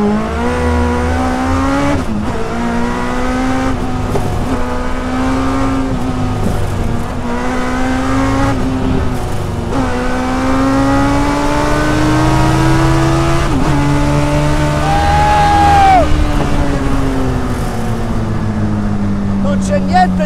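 A Westfield Megabusa sports car drives on asphalt, its engine note rising and falling through repeated gear shifts, loud and close from on board, with a voice talking over the engine.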